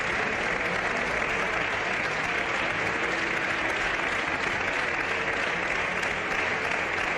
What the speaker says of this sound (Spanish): El aplauso ha seguido.